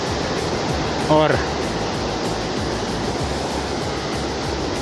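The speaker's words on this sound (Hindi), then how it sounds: "पास से ही नीचे उतरती नदी।" A Himalayan river on the Hamta Pass trek rushes below a mountain trail in a steady, broad roar that fills the scene, broken once by a single brief spoken word.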